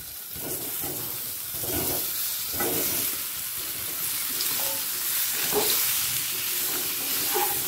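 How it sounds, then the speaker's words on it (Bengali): Boiled potatoes fry in mustard oil with salt and turmeric, producing a loud, constant sizzle broken by repeated stirring scrapes at an uneven rhythm, heard up close with no talking. "আলুটা হালকা লাল করে ভেজে তুলে রাখবো।"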